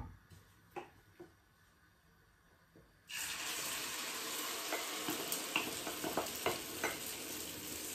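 The pour into a hot pan for a Spanish tortilla gives a sudden, loud, continuous sizzle about three seconds in, after a few quiet clinks and taps, and the frying hiss holds steady with light crackles to the end.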